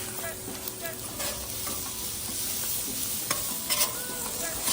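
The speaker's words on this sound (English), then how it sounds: "We're gonna mix this up." Steak taco meat being stirred in a sizzling pan, a steady broadband fry hiss with scattered scraping strokes of the utensil throughout, no voices.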